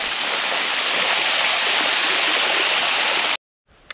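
Water pours into a tank on a farm, a loud, steady rushing splash close by that cuts off suddenly, followed by a brief quiet and a few soft knocks.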